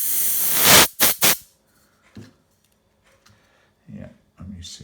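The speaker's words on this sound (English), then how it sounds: "I will whack a bit of carb cleaner through it just in case" Aerosol carb cleaner blasts through a Yamaha XS650 motorcycle carburetor in a loud close hiss, then two quick short sprays follow. After that come quiet clicks and handling noises, with faint speech near the end.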